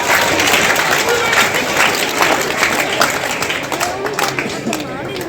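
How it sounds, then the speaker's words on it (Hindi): Loud, close applause from an audience, many hands clapping continuously and gradually easing off toward the end. "एक बार जोरदार तालियां"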